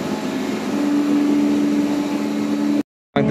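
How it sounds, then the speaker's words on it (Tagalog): Hatch cover motor on a container ship running steadily, a loud continuous mechanical drone with a steady hum that cuts out abruptly near the end, then briefly resumes. "Pero bago buksan yung hatch cover, kailangan naka-on pa yung motor."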